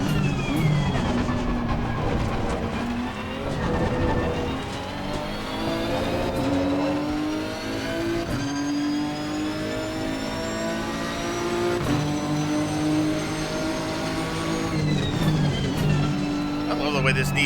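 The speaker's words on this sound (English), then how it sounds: "I love the way this Nissan sounds." Nissan GT-R GT race car in Assetto Corsa Competizione at Zolder, its six-cylinder engine revving and pulling through repeated upshifts and downshifts, loud and continuous from onboard, with the pitch sweeping up and down.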